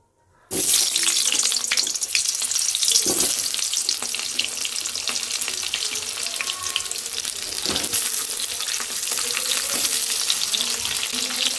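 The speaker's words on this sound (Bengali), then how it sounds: "আলুটাও ভেজে নেব।" Potato pieces frying in a pan of hot oil while Bengali-style tangra fish curry with flat beans is being cooked, giving a steady, loud, continuous sizzle and crackle close by, with a few clinks and no talking.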